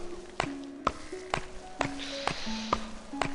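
A pickaxe chips at rock in the video game Don't Starve: about seven sharp, evenly spaced taps, roughly two a second, ring out over soft sustained game music tones.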